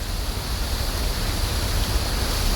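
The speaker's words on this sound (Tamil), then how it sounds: "இந்த சைடு தண்ணி விழுது, ஃபால்ஸ் மாதிரி தண்ணி விழுது" A waterfall near Ambasamudram roars in a steady, loud, broadband rush of falling water that stays constant throughout, with no voices.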